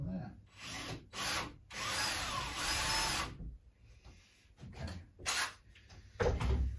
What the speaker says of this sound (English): with my bit, and then I can tap the hole. I'll tap the hole and we'll go from there.